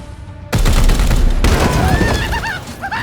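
A heavy burst of gunfire erupts in Warhammer 40k: Chaos Gate - Daemonhunters as enemy cover is shot, a loud sudden volley with a second surge midway, followed by shrill whining effects.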